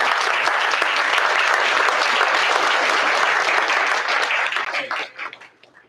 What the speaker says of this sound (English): let's give a round of applause to our instructors and our cadre